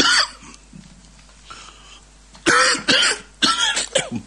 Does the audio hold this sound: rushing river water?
no